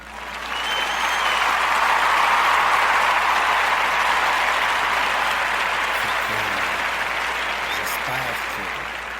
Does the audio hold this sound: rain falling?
no